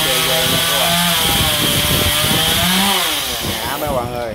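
Chainsaw cutting through a large star apple tree beside a big road, a loud continuous engine roar with rising and falling pitch as the blade bites, close up and steady throughout.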